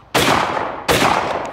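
A Beretta Ultraleggero shotgun fires two loud, sharp shots, a little under a second apart. Each blast rings out with a short decaying echo, out in the open.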